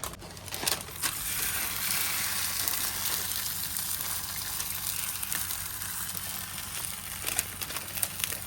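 Puran poli (obbattu) sizzles in a little oil on a hot pan, a steady crackling fry heard up close with occasional soft scraping and no talking.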